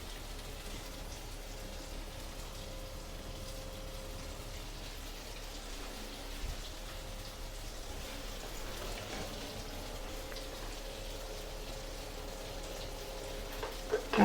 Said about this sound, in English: all I've got to do is pour the boiling water over the vegetables